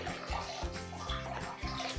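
Water poured into an egg masala curry with onions and ground masala in the pan, a short, close, gurgling splash that runs steadily for about two seconds.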